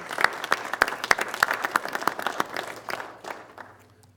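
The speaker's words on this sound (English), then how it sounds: "Please give him a round of applause" A round of applause at a county board of commissioners meeting, distinct individual claps from a small room of people in a quick uneven rhythm that thins out and dies away over a few seconds.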